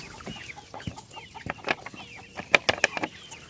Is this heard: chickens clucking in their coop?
yes